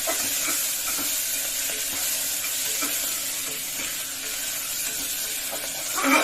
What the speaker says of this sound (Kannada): ಮೆಂತ್ಯ ಸೊಪ್ಪನ್ನು ಹಾಕೊಂಡ್ಬಿಡಿ ಚೆನ್ನಾಗಿ ಫ್ರೈ ಮಾಡ್ತೀವಿ